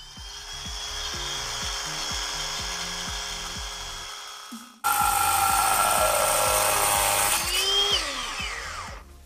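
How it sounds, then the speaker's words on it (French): A diamond disc cuts through a cement tile: a motor whirs with rhythmic chopping pulses, then a loud, harsh grinding screech takes over as the blade bites, close and continuous until the cut finishes, with no talking. "Nous allons maintenant découper notre carreau de ciment à l'aide de notre disque diamant."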